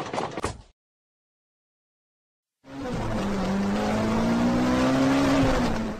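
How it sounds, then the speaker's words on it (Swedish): A racing car in a children's app revs loudly and steadily for about three seconds, its engine note climbing slightly, after a short burst of sound and a stretch of silence. "Räsebil."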